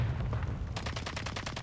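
Rapid automatic fire from a weapon in Modern Warfare 3 starts partway through, a quick, evenly spaced string of sharp shots following quieter game noise.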